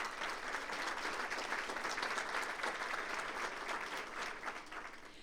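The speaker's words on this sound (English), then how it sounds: "let's give us a hand for our sponsor" An audience at a regional business event applauds a sponsor with steady, dense clapping that holds evenly throughout and fades slightly at the close, heard at a moderate distance.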